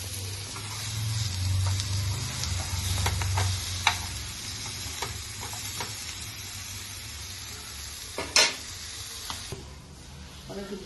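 Food frying in a pan after being flipped, a soft continuous sizzle with a low hum underneath and a few faint clicks and ticks scattered through it.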